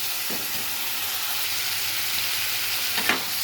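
Chicken frying in a pan, a continuous loud sizzle with two clear scraping stirs, one early and one near the end, and no voices.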